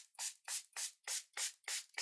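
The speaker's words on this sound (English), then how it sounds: "I'm going to take my water bottle and I'm just going to spray this" A handheld water bottle gives seven quick, even spritzes onto a plastic stencil. Each sharp hiss is close and separated by brief silence.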